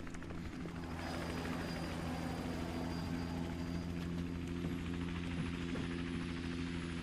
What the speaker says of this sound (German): Bereit machen, einen Helikopter zu verfolgen.